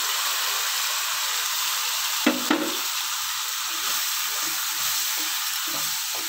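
Ground tomato, shallot and coconut masala sizzles in a pan, a steady frying hiss with a brief clatter of a spoon against the pan partway through.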